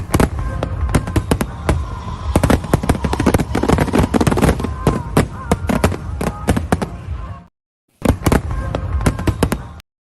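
Fireworks burst at an Independence celebration in rapid, crackling volleys of sharp bangs, loud and continuous for about seven seconds, then a short silence before another dense round of explosions.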